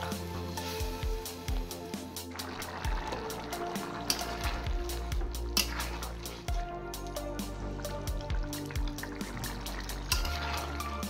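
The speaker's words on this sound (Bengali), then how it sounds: "এবার আমি জল দিয়ে দেব" Water pours into a pan of shrimp, potato and bottle gourd curry, with a gurgling fill and steady close sizzling from the hot pan.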